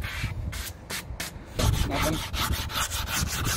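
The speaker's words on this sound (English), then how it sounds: "Here I am sanding it." Hand sanding of new wooden hatches for a narrowboat makes rhythmic back-and-forth rasping strokes, close and fairly loud, repeating several times with no talk.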